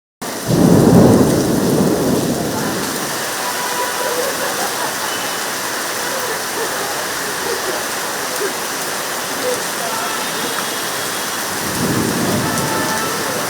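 A hailstorm with heavy rain pours steadily over Bengaluru in a dense, unbroken roar, while deep thunder rumbles loudly at the start and again near the end.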